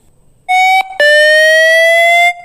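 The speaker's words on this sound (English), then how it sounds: "It will play a 30-second audio with a beep sound, and this sound will remove all the dirt and dust inside the speaker." A phone speaker plays a loud, pure electronic beep tone meant to clear dirt and dust from the speaker, holding steady for nearly two seconds with a brief break and click near the start.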